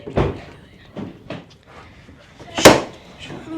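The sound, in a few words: door being forced open while locked out of a house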